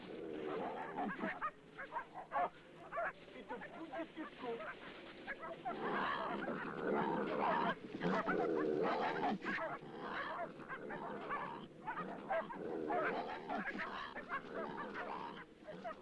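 A pack of rangers' dogs barks and yelps frantically at a captured young Siberian tiger in Russia, a dense overlapping chorus with voices mixed in.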